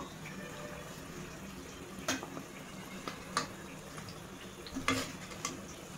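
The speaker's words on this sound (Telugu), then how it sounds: "ఇలా మంచిగా కలర్ వచ్చే వరకు వేయించుకుందాం" Kajjikayalu pastries frying in hot oil, a soft steady sizzle with a few faint clinks and stirring scrapes scattered through it.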